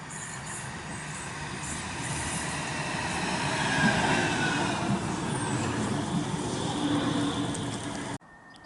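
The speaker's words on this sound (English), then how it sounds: "Here comes the tram," A tram rumbles past close by at Dane Road, UK, speeding in alongside a canal, a sustained rolling roar with faint wheel squeal that builds, holds, then cuts off abruptly.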